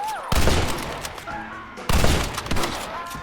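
Gunfire erupts in a Western-style shootout cutscene from the Red Dead Redemption video game. Two loud bursts of dense rapid shots form a heavy volley, with shouting voices and a short lull between the bursts.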